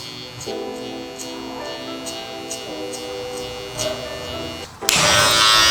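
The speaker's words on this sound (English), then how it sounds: "Next, I'm gonna slightly flick up right here with the trimmer." Electric hair trimmer buzzing steadily close by while blending a mullet haircut, its hum running throughout before a sudden louder burst of broadband noise near the end.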